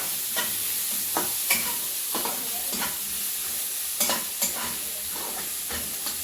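Homemade garam masala and coriander powder stirred in a pan for egg Maggi, with close, irregular scraping strokes of a spoon over a soft, constant sizzle and no speech.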